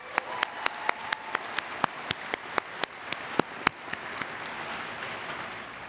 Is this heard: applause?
yes